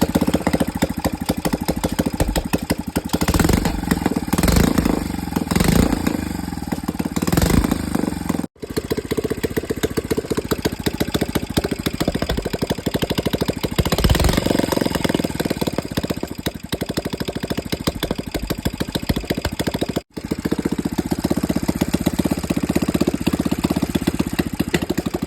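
An old Royal Enfield Bullet Standard 350 cast-iron engine idles after an oil change, a loud, close, steady single-cylinder thump running continuously with two brief cutouts, no talking.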